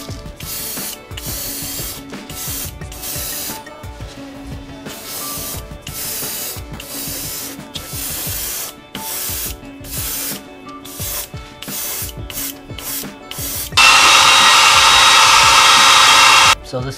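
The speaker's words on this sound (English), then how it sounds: "I'm gonna go ahead and hit this with some opaque white just to seal it" Opaque white spray paint applied to a wooden topwater fishing lure, heard as loud, close hissing bursts in short repeated sprays, ending in one longer, stronger continuous blast.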